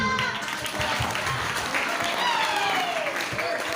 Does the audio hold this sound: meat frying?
no